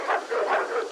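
Several big St. Bernard dogs barking and yipping in a kennel at feeding time, a close, continuous jumble of overlapping barks with no pauses.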